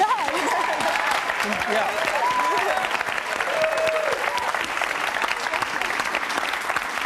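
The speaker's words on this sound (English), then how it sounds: "I'm wondering why so many people clap" A studio audience at a TV talk show applauds with dense, sustained clapping throughout, while a voice speaks briefly over it.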